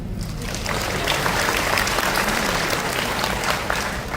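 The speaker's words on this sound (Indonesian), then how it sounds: "Tepuk tangan." Audience applause fills a hall during a Catholic family talk, a steady dense wash of many hands clapping at even loudness for several seconds, with a faint murmur of voices underneath.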